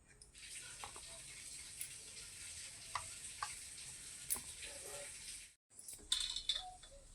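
A small ball of maida dough for shankarpali drops into hot oil and sizzles with a soft, steady crackle. The sizzle is fairly faint, breaks off briefly near the end, then resumes.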